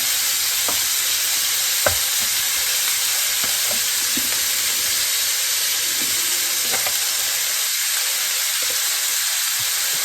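Turkey wings fry in vegetable oil in a pot on a stovetop, giving a loud, steady sizzle and hiss with a few faint clinks and taps.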